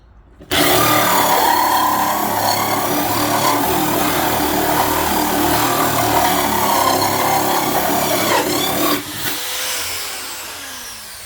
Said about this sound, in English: we'll drill a hole, a big one here with the circular saw